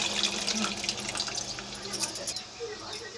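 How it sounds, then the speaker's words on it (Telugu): Tamarind juice poured into a cooking pot while making gurugu greens with moong dal: a steady, continuous trickle and splash of liquid lasting the whole moment. "ఇప్పుడు చింతపండు పులుసు పోసుకుందామండి."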